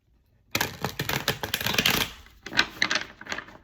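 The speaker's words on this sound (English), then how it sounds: "I'm going to talk while I try to shuffle and see if we get any cards" A deck of cards is shuffled up close after a brief silence, with rapid bursts of crisp, fluttering clicks that pause briefly and then resume.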